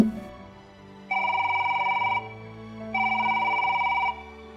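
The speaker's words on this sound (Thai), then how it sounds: "เสียงโทรศัพท์ก็ดังขึ้น" A telephone rings in two long electronic bursts separated by a pause, loud and clear with nothing else over it.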